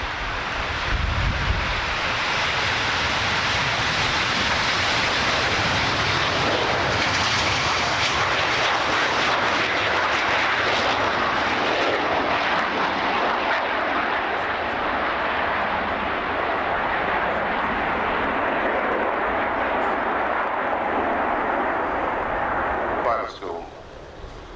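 Aerobatic formation jets roar overhead at the 1989 RAF Scampton airshow, a loud continuous engine rumble and whoosh sustained throughout before dropping off at the end, with commentary speech beneath.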